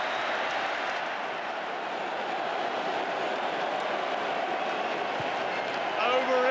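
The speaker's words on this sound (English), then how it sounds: "Claude Dort comes back to milk the applause." Big stadium crowd at the 1999 Rugby World Cup semi-final between New Zealand and France, applauding and roaring in a steady, dense wash for several seconds after a French try.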